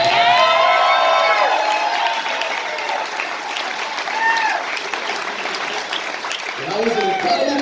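Banquet audience applauding, dense clapping with whoops and cheers that fades, then swells again at the end, with a voice talking over it.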